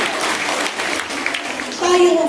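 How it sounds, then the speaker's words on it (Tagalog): A congregation claps at a Sunday service in a church, a dense, sustained round of applause that fills the room, with a voice rising over it near the end. "Palakpak para kay Lord."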